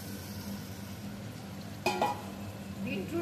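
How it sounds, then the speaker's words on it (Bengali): Beetroot poured with water into a hot pan after garlic has browned, giving a steady low sizzle and frying hiss, a sharp splash-and-clatter burst near the middle, then renewed bubbling and stirring. "বিটরুট ঢেলে দেব, জল দিয়ে একদম পুরো ঢেলে দিয়েছি"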